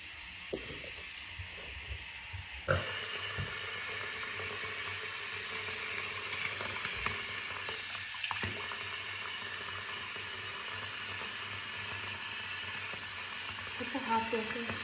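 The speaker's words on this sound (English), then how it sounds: "So I'm gonna fill the sink all the way up with water." Kitchen sink filling from a newly installed faucet, a steady broadband rush of running water that starts abruptly a few seconds in and continues without a break, close and moderately loud.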